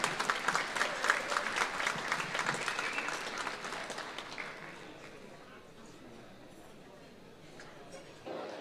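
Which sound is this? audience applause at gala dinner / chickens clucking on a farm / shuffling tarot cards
audience applause at gala dinner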